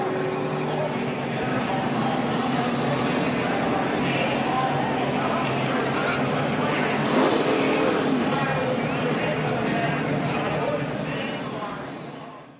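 NASCAR stock cars roar around a speedway in a continuous engine drone that swells briefly as cars pass, with commentators talking over it.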